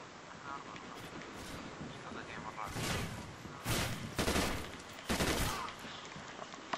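Gunfire in Call of Duty Ghosts comes in sharp bursts of three rounds, loud cracks over a steady background rumble of battle, with a voice talking quietly beneath.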